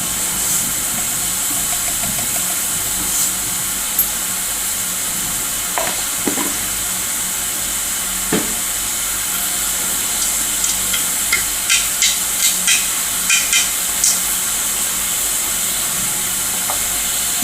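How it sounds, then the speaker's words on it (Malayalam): Mustard seeds fry in hot cooking oil with a continuous close sizzle, and a burst of sharp pops and crackles builds up in the second half as the seeds begin to pop. "ഇത് എണ്ണ ഒഴിച്ച് കൊടുക്കുന്നുണ്ട്. കടുക് ഇട്ട് കൊടുക്കുന്നുണ്ട്."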